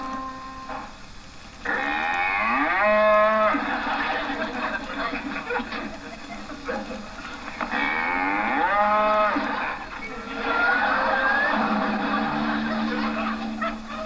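Cattle moo loudly twice, long drawn-out bellows spaced several seconds apart, with quieter background noise between them.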